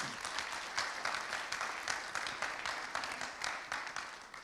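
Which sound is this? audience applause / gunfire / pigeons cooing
audience applause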